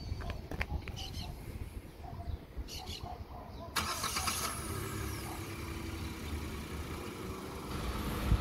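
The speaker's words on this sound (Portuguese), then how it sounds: "ligou o carro aqui" A car engine starts and settles into a steady idle partway through, during a parking practice session for a driving exam, with outdoor ambience and faint birds before it.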